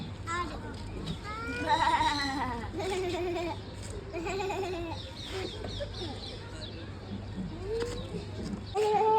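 Goats bleat several times amid other farm animal noises at a mini zoo in Wakrah, Qatar, with a person talking nearby and bleats recurring irregularly.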